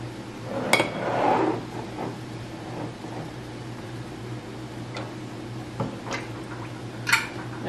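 Hot glass canning jars filled with pumpkin are set into a hot pressure canner, giving a few distinct glassy clinks and knocks spaced over several seconds against a low, steady kitchen hum.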